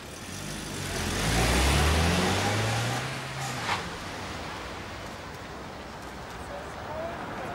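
A car drives up and rolls past nearby, its engine swelling to a close hum and then fading into steady background noise, while voices talk over it.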